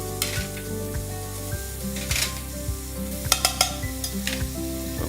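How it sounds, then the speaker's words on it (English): Vegetables sauté in a hot pan beside free-range chicken, a close, continuous sizzle with crackling spurts and faint metallic clicks and scrapes, with no talking. "So we're gonna let our vegetables cook about 30 seconds."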